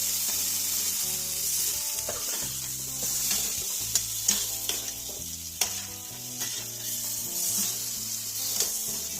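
Papaya, potato and mixed vegetables fry in oil for a katla fish curry, giving a steady close sizzle broken by scraping stirs and a few sharp clacks, all under background music.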